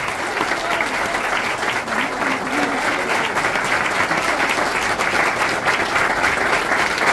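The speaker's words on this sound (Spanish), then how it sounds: "Un fuerte aplauso y el reconocimiento al compañero" Steady, dense applause from an audience at an awards ceremony honouring former Justicialist party members in Cutral Có, continuous and fairly loud with a faint murmur of crowd beneath.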